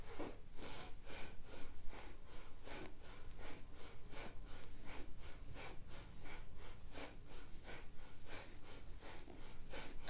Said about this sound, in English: you're breathing in and out through your nose